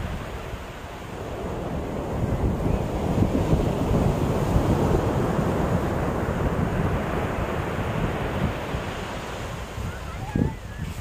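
Winter sea waves break and wash over the pebbles of Gangdong Mongdol Beach in Ulsan, a steady broad roar mixed with gusty wind buffeting the microphone, and a voice is heard faintly near the end.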